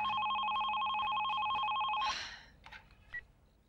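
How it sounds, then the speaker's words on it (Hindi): A telephone rings with a steady electronic double tone for about two seconds, then stops, followed by a few faint handling clicks in a quiet room. "इस वक्त किसका फोन आ गया है?"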